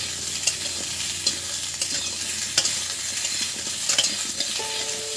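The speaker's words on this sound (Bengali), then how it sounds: "আলুটা আমি অল্প সময় একটু ভেজে নেব।" Potato pieces fry in a pan with spices and panch phoron, giving a steady, close sizzle broken by light scraping and stirring knocks from a utensil.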